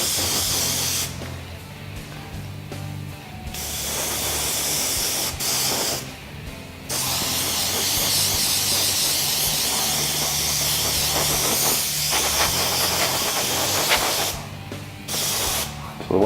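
A dual action airbrush sprays paint onto a part of a Yamaha marching snare drum in a garage, sustained airy hissing bursts that start and stop several times with brief pauses, close and fairly loud, no voices.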